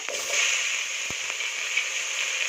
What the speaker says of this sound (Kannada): ಈರುಳ್ಳಿ ಕಲರ್ ಚೇಂಜ್ ಆಗೋವರೆಗೂ ಫ್ರೈ ಮಾಡ್ಕೊಳ್ಳೋಣ